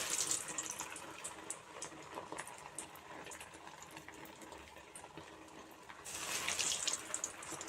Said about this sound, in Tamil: எண்ணெய் நல்லா சூடேறி புகை வந்துட்டு இருக்குது இப்போ அடுப்பை கம்மி பண்ணிவிட்டு இந்த வடையை தட்டின வடையை போட்டுக்கலாம்